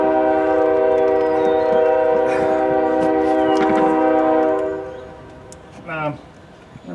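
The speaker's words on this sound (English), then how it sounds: "Thanks, train." A train passes close by, its horn holding a loud, steady, sustained blast for about five seconds before cutting off, leaving rumbling rail noise and a brief squeal.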